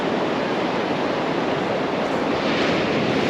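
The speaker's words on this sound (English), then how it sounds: "It's a very nice beach" Steady broadband wash of surf on a Scottish coastal beach, continuous and fairly close, with wind mixed in and no talk.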